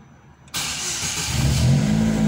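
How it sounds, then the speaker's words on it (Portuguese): A Chevrolet Celta 1.0 with new spark plugs and 10 mm silicone spark plug cables cranks briefly and catches, then settles into a steady, close idle that grows slightly fuller. "vamos lá dar a partida pra ver como é que ficou. Com as velas novas e os cabos de 10 mm."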